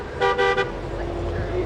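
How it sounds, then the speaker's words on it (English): Several car horns toot in a short burst of two or three blasts at an outdoor commemoration rally for the 1967 Newark rebellion, then traffic rumble continues under a crowd and a voice. "Honk your horns, if you remember 67, honk those horns."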